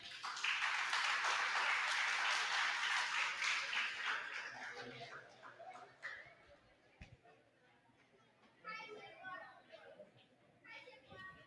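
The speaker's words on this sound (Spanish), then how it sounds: "Aplauso, por favor." Applause from a school audience at a Teachers' Day program in Ecuador, loud and dense for the first several seconds with children's chatter mixed in, then fading to scattered voices and lighter clapping.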